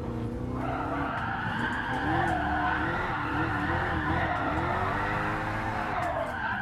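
Tyres squeal continuously as a 707hp Hellcat drifts on the Tokyo Expressway track in Gran Turismo Sport, a loud, sustained, wavering screech over steady engine roar with no talk.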